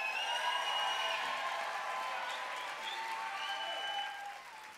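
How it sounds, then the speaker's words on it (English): An audience at a live talent show finals breaks into sustained applause with some cheering and whistles, a dense clapping wash that fades slightly toward the end. "make some noise for Millie after you, darling."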